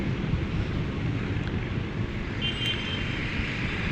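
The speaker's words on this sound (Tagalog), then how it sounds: "Malakas ang hangin, malakas ang hangin dito sa taas guys." Strong, steady wind roars across a mountain top in Tanay, Rizal, a constant loud buffeting rush against the microphone with no letup.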